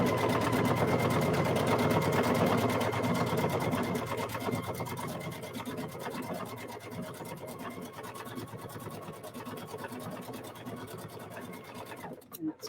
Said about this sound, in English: Okay, so now I'm going to start stitching my decorative stitch.